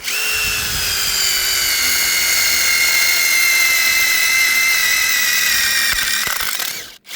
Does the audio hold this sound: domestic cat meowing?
no